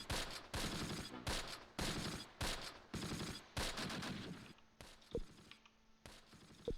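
Gunfire crackles through a WWII battle at Grafwegen near Arnhem in Close Combat Last Stand Arnhem, repeated bursts of rapid automatic fire followed by a few sparser single shots.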